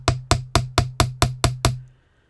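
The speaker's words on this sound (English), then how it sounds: "I'm just going to hammer gently because I don't want to bend this out of shape" A hammer taps gently on a metal piece, eight evenly spaced ringing strikes close up, each with a short decay, then silence.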